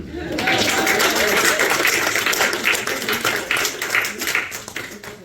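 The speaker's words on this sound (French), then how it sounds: "S'il n'y en a pas, on peut applaudir." Audience at a Belgian AFDC anniversary gathering applauds, a dense burst of clapping that swells quickly and then thins and fades over several seconds.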